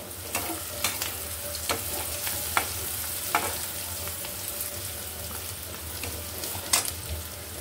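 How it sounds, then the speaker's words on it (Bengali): Whole cardamom, cinnamon, cloves and peppercorns sizzle in hot oil in a pan: a steady close frying hiss with a few light stirring knocks. "এখানে দিয়ে দিচ্ছি দুটো এলাচ, 2 টুকরো দারচিনি, এখানে দিয়ে দিচ্ছি লং কয়েকটা, আর বেশ কয়েকটা দিয়ে দিচ্ছি এখানে গোলমরিচ"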